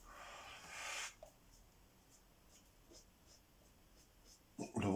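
Posca paint marker drawing on paper: soft, faint scratchy strokes come in a brief burst, then quiet, with a few light taps and a louder handling rustle near the end.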